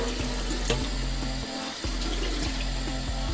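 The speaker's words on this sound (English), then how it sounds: "rinse off the coating. And I'm going to do this for a few minutes." Running tap water steadily pours over a cyanotype print as its coating is rinsed off, a close, continuous splashing stream with a short dip in the flow midway and no talking.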